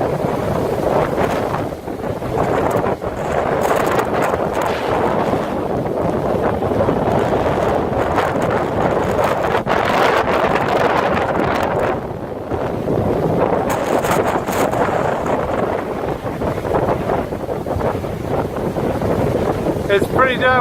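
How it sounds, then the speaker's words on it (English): Strong gusting wind during Hurricane Ophelia in Ireland near a rough lake roars continuously into the microphone, a dense, steady buffeting wash with brief lulls, close and loud throughout. "It's pretty damn windy."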